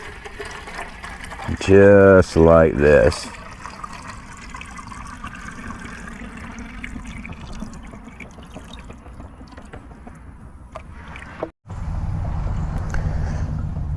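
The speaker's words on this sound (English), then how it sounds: "So now what we've got our good old bayou water. I'm going to pour it down in here." Murky bayou water is poured into a gravity water filter, giving a soft continuous trickle and splash; someone talks briefly over the start, and a louder rushing pour follows near the end.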